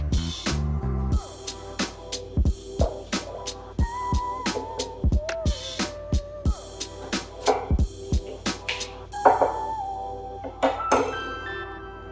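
A knife cuts butter off a stick and the pieces plop into a pot for mac and cheese, with repeated sharp clinks and taps of metal and glass at a close, irregular pace.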